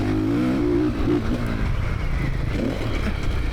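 A 2027 Honda CRF450R motocross bike engine revs steadily and fairly close, its buzzing drone holding throughout with faint voices underneath.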